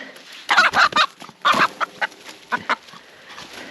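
A hen clucks in quick, agitated bursts, loud and close, with scattered squawks and pauses between the calls.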